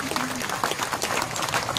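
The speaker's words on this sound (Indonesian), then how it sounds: "Tepuk tangan khusus buat bunda kita." Applause from an audience at a humorous Islamic sermon on choosing leaders, a brief burst of dense clapping that fills the moment with a voice faintly underneath.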